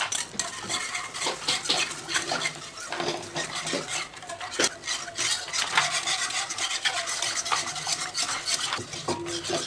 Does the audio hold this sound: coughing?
no